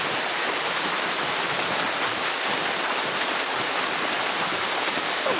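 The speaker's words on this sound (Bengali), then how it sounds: "সুন্দর বৃষ্টির জল পড়ছে গায়ে আহারে" Steady rain pours down continuously, a dense broadband hiss with no pauses, close and fairly loud.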